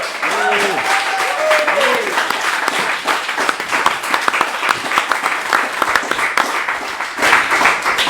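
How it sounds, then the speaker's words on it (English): A live audience at a political talk event claps steadily and loudly for several seconds, dense and continuous, with a voice rising over the applause near the start. "give us a big round of applause, everybody"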